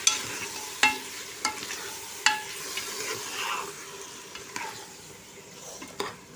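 Washed rice stirred and sautéed in a pan with vegetables for spiced brinjal rice, a steady sizzle broken by sharp scrapes and clinks of the spoon against the pan every second or so, close and clear with no talk.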